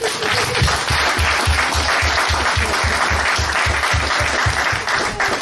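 A church congregation claps loudly and continuously in praise of the Lord, a dense wash of applause with a steady rhythmic beat running through it, filling the room.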